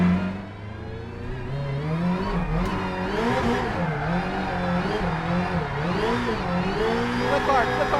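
Travis Pastrana's 862bhp Subaru Family Huckster drifts with its engine revving and wavering in pitch as throttle rises and falls, heard from inside the car.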